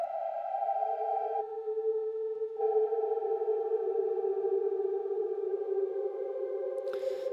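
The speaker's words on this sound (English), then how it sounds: "this spectral blur is really cool." Sustained, smeared electronic tones hold steady like a blurred drone, shifting pitch partway through and ending with a brief noisy burst.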